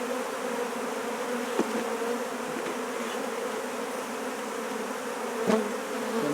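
Honey bees buzzing around a hive while the queen is placed into a new box, a steady dense hum close by with a couple of faint knocks.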